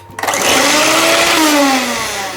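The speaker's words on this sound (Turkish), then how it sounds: "Bütün malzemelerimiz iyice karışıncaya kadar mikserden geçiriyoruz." An electric mixer blends lemon ice cream ingredients with a cup of milk, whirring up loudly and steadily from a brief start, with its pitch sliding slightly as the mixture thickens, and no voices.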